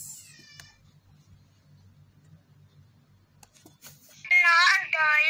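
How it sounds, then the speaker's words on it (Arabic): A cat meows twice, a short cry at the start and a louder, longer one near the end, separated by a quiet stretch with a faint low hum and small ticks. "نشوف بس نجيب القطة دي هنا"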